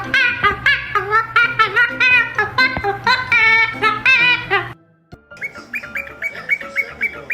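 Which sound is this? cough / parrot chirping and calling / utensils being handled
parrot chirping and calling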